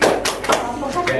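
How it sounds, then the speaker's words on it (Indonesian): Brief scattered hand claps from a classroom group during a micro-teaching lesson, a few sharp taps over about a second, mixed with voices in the room. "Tepuk tangan dulu untuk Elsa"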